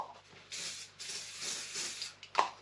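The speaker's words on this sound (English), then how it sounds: "Do a bit of coat of my silicone spray." Silicone spray from an aerosol can is applied to parts of a Harley-Davidson Super Glide Dyna motorcycle during a bagger build, in several short hissing bursts with brief pauses between them. The spray is close and fairly quiet, and no one speaks.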